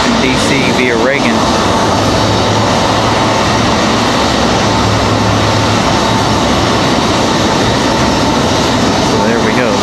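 Two CRJ regional jet engines idle at the gate at Raleigh-Durham airport, a loud steady whine and rush that fills the scene without a break, with a voice talking briefly at the start.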